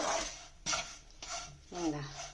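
Ragi flour and semolina dry-roast in a pan while being stirred for a ragi kinnathappam. Repeated scraping strokes of a spoon against the pan are close and steady, with a brief voice near the end.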